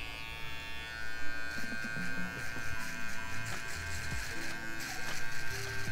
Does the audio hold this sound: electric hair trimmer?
yes